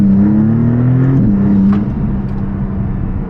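A Maserati MC20 engine drones loudly up close, its pitch rising and then dropping as the revs shift, settling into a steady lower hum, with no talking.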